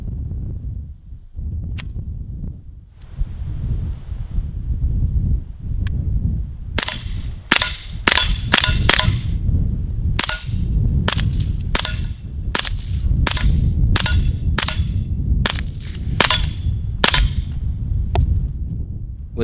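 A CZ Scorpion EVO fires a string of sharp, loud gunshots, first a quick cluster and then evenly spaced single shots over a steady low background rumble.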